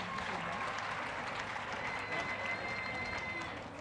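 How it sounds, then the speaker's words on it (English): Audience at a World AIDS Day keynote address gives a round of applause, a dense, even spread of many hands clapping at a distance throughout. "Now, you can lead the children, and please take care. Round of applause."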